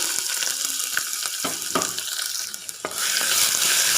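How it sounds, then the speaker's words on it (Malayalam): Crushed ginger, garlic and shallots sautéing in hot oil with curry leaves for Kerala rasam, a steady close sizzle with stirring scrapes that swells louder near the end, no talking. "ഇതിലേക്ക് ചതച്ച് വെച്ചിരിക്കുന്ന ഇഞ്ചി വെളുത്തുള്ളി ചെറിയുള്ളി ഇതിലേക്ക് ഇട്ട് കൊടുക്കാം"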